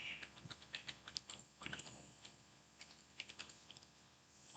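Quiet keystrokes on a computer keyboard while entering a stock name for swing trading, with irregular bursts of light clicks and short pauses, close and soft, with no talking.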